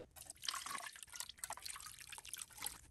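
Liquid pours into a mold during a woodturning project, a faint, close trickle with small irregular splashes and drips.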